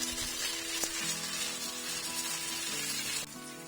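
Ingredients sautéing in a hot pan give a continuous, close hiss and crackle that holds steady, then drops slightly near the end.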